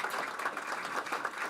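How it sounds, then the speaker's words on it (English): Audience at a golf championship announcement clapping in a brief, steady wash of applause at moderate distance. "If we could give her a round of applause,"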